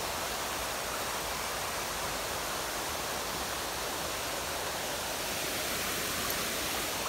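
A waterfall pours in a park on a morning walk, its steady broadband rush of falling water constant and fairly soft throughout, with no voices heard.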